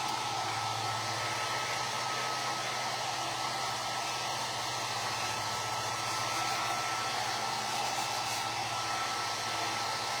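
A hair dryer blows steadily and close for about ten seconds while drying paint before distressing, a constant whooshing hum with no voices over it.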